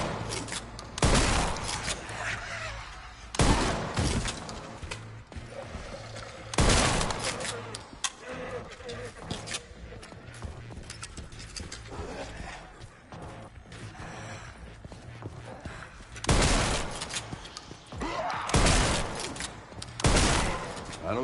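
Bursts of rapid gunfire in Resident Evil 9, played first-person: several loud volleys of shots in separate clusters across the stretch, with quieter in-game ambience and clatter between them.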